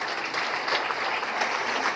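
Dense, steady audience applause fills a seminar hall, many hands clapping at once with no voices standing out above it.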